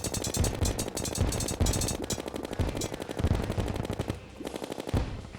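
Rapid automatic gunfire from a weapon in Terraria 1.3 expert mode, loud dense bursts of shots firing continuously with brief lulls, alone without talk.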